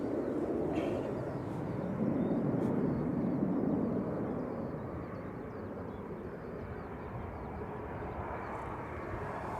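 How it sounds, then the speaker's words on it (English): A Ryanair airliner climbing out of Manchester Airport on flight 6816 to Milan sends a sustained jet roar that swells slightly near the middle and then eases off a little, with no voices. "Ryanair to Milan there with flight 6816."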